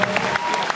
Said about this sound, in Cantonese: 大家俾多啲掌聲啦！